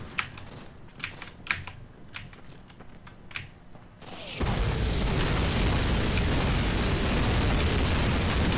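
In a Call of Duty battle, a few sharp clicks come first. Then a loud, sustained explosion roar erupts about halfway through as a Panther tank is destroyed, and the blast rumbles on without fading.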